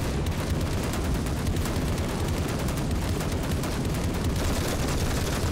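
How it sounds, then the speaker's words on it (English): Dense, continuous barrage of tank gunfire and explosions in the Call to Arms battle game, loud and unbroken with rapid overlapping blasts throughout. "Ah, guns blazing."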